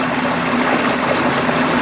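A steady, powerful rush of water pours from an iGarden Jet X Pro portable swim jet into a pool at a high flow setting, making a constant dense churning hiss with no pauses.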